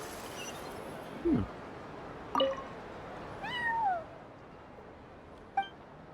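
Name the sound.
cat meowing in the video game Genshin Impact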